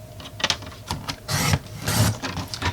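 A craft blade scoring and cutting through bumpy embossed cardstock, giving soft scraping, rasping strokes in a few bursts, close and moderately quiet with no talking.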